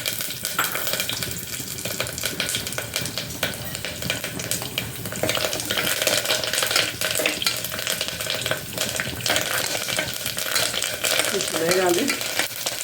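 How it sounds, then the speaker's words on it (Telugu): Tempering spices frying in hot oil in a pan, a dense continuous sizzle up close with scraping stirs, loud and steady throughout. "తాలింపు వేస్తాను"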